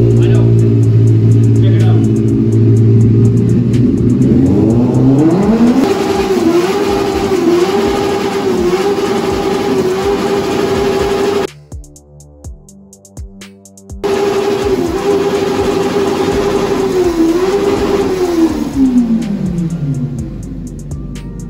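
A Benelli 600i four-cylinder motorcycle with an SC Project exhaust, on its stand, revs hard toward top speed, a loud steady engine drone that briefly cuts out midway and resumes, with someone talking over it.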